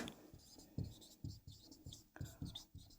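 A pen scratches out a maths solution on paper in quick, uneven strokes and taps, close and quiet, with faint breathy speech sounds in between.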